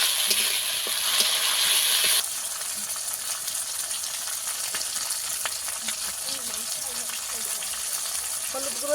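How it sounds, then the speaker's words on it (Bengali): Spices sizzling and frying in a pan for a Bengali glass-cup fish curry, a steady close crackle that is loudest in the first two seconds and then settles into a quieter, continuous sizzle. "মশলা কিন্তু ভালোভাবে কষিয়ে নিতে হবে।"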